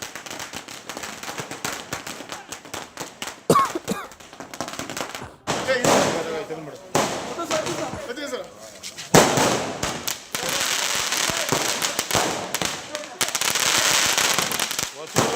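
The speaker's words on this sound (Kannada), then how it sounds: "ಅವರು ಪಟಾಕಿ ಸಿಡಿಸಿ ಸಂಭ್ರಮಿಸಿದ್ದಾರೆ" Farmers burst firecrackers in celebration in a village, with rapid, loud crackling bursts coming in dense volleys while a voice talks over them.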